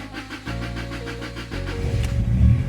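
A Honda Accord's engine cranks with a quick rhythmic churn and then catches into a rougher running rumble, brief and close by.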